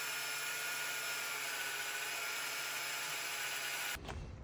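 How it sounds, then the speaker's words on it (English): An angle grinder with a cutoff wheel cuts into metal on a military LMTV truck, giving a loud, steady, close whine that holds constant for about four seconds and then cuts off abruptly. "So angle grinder it is with a cutoff wheel."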